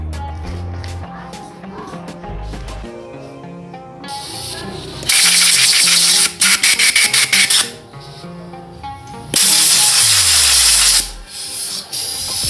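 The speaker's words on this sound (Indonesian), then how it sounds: "Lalu kita semprot lagi menggunakan kompresor ya teman-teman." An air compressor blasts compressed air over engine cylinder head and valve parts being cleaned after a petrol wash, in two loud sustained hissing bursts with brief stuttering pulses between them, over a quieter background of music.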